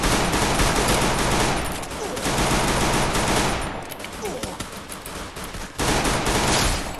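Rapid automatic gunfire rattles almost nonstop in a first-person shooter game, loud dense bursts with brief lulls between volleys.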